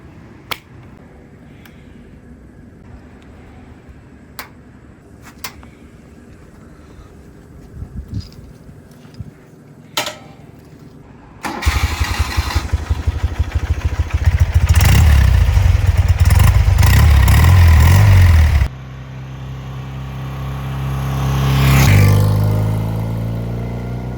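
A BMW motorcycle with freshly synced carburetors sits through some sharp clicks and taps before its engine catches, revs loudly up close for several seconds, then rides off in a fading, rising and falling drone.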